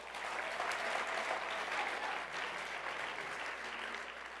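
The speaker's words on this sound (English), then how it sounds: "But you're clapping." Applause from the audience at a members' conference, a steady patter of many hands clapping for several seconds that eases slightly toward the end.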